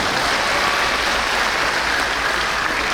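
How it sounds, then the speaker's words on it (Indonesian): Steady, dense applause from an audience filling a room at a 25th-anniversary thanksgiving celebration, loud and continuous for the whole stretch with no break or voice standing out. "Mari kita beri aplaus."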